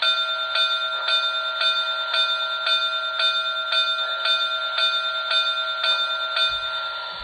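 The bell of a model Reading T1 4-8-4 steam locomotive rings with a bright metallic tone, steadily and repeatedly, about two strokes per second, clear and close with no voices.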